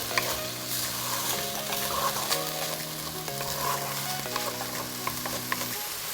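Garlic and other ingredients are tossed and stirred in a hot frying pan for babaw innards rice porridge, a loud continuous sizzle with repeated scraping and clanking of the pan and utensil, alone without voices.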